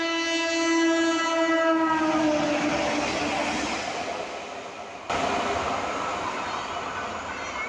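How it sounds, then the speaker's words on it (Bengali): A train horn sounds loudly and steadily as the train arrives at a station, then fades into the rumbling roar of train cars rolling past nearby. "আমাদের ট্রেনে চলে এসছে"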